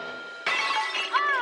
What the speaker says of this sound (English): that is how Frankie, alone, smashed the statue